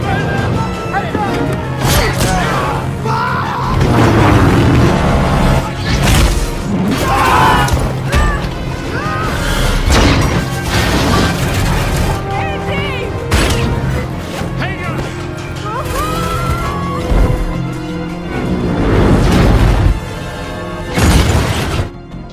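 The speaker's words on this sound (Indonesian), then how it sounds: "jatuhnya pesawat telah meledak" A crashing aircraft explodes in a film, with loud smashing, booming impacts and crashing debris that run densely throughout, overlapping with music and voices.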